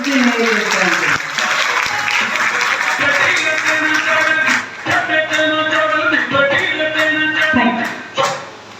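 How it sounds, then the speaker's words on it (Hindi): An audience at a Safe Shop gathering in Bihar claps for itself with loud, sustained applause that fills the room, mixed with voices and cheering. "आप लोग अपने लिए एक जोरदार ताली बजा लीजिए"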